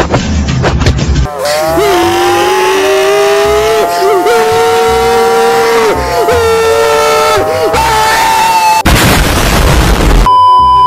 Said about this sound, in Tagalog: Grabe, naka-VTEC pala yung makina nito kaya sobrang bilis.